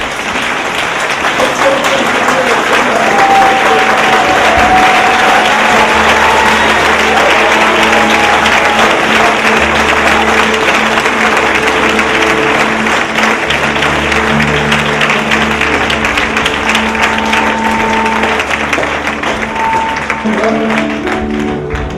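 Church congregation applauding and cheering the Lord during a morning service, a loud sustained wave of clapping and crowd voices filling the room without pause.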